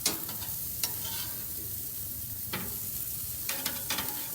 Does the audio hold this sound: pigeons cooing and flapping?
no